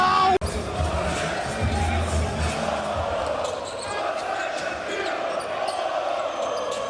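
A basketball arena crowd at an international game between Spain and Bosnia and Herzegovina, roaring and cheering loudly and steadily after a big block, with a commentator's voice over the noise.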